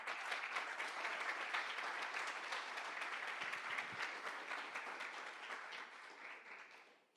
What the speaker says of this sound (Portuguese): Se você crê nisso, aplaude a Jesus. Aplaude. Aplaude a Jesus.